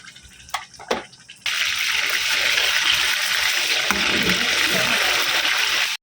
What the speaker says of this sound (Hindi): पहले आपने ऑयल को ज़्यादा डालना है ताकि अच्छे से जो चिकन है वो आपका फ्राई हो जाए